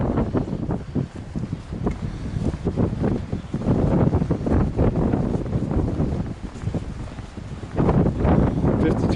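Gusty wind buffets the microphone on a hiking trail, rising and falling in rough, rumbling bursts that stay loud throughout, with a voice partly mixed into the noise.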